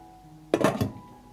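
A lid is set onto a pot of glass jars: one short clattering clink with a brief metallic rattle that dies away quickly, close by.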